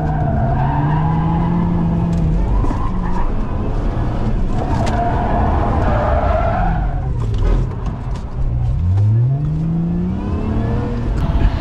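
A Lotus Emira drifts with smoking tyres: loud, sustained tyre squeal and skidding with wavering pitch, over a rumbling engine that rises and falls as the car slides.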